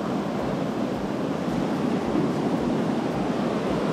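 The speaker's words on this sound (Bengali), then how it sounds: "এই দেখেন কি অবস্থা ঢেউয়ের" Large ocean waves surf at Cox's Bazar beach, a loud continuous roar of breaking water and wash with wind buffeting, no voices.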